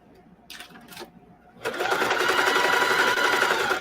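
Sewing machine back-stitching embroidery onto jeans: a few faint taps first, then the motor starts up into a steady, loud, rapid whirring rattle of needle strokes that runs continuously to the end.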